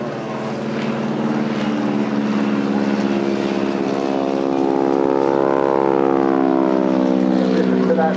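A vintage propeller aircraft engine roars loudly and steadily at the Eastbourne Airshow 2025, its deep droning tone rising slightly in pitch as the plane passes close by.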